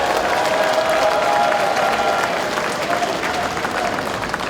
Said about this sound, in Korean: 자, 여러분, 우리 후보들을 위해서 아낌없는 박수 한번 보내주십시오.